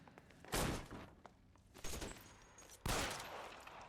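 Gunfire in the video game L.A. Noire: three bursts of rapid shots, each a loud broadband volley that tails off, separated by brief lulls, with no talking.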